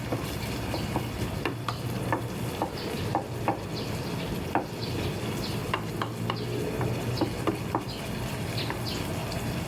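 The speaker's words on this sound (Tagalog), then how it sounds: "And yung last is bawang. Gisa lang natin yung bahagya" Garlic sautés in a hot pan with onion and ginger, a continuous close sizzle broken by scattered sharp pops and light stirring scrapes, with no talk.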